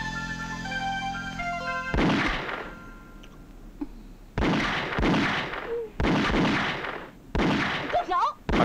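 Gunshots ring out in a martial-arts action film as shots are fired at targets, four or five loud, sharp reports spaced a second or so apart, each with a ringing tail, with brief voices in between.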